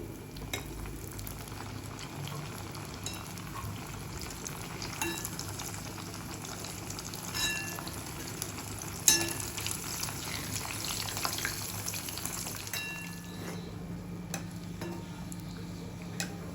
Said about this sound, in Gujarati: આ રીતે એને ધીમા તાપે તળી લેવાની બધી